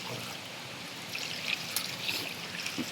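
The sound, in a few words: pouring two glasses of water into dough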